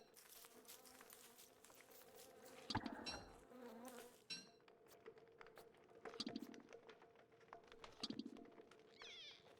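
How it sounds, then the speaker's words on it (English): Several insects buzz in Don't Starve Together, a faint, steady drone with intermittent wingbeat whirs and scattered small game sound effects, no talking. "I'm hearing several buzzings."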